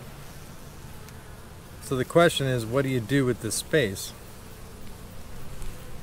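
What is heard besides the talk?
honey bees buzzing at an open hive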